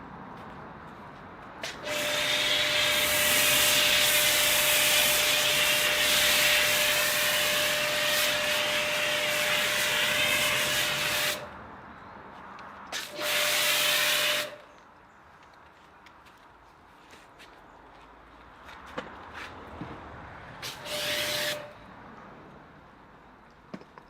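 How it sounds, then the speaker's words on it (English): A pressure washer with a snow foam lance sprays foam onto a car, a loud, steady mechanical hiss and hum lasting about ten seconds, then two shorter bursts separated by quieter pauses. "On the back half we will put sand snow foam, on the front half we will do the alternative snow foam"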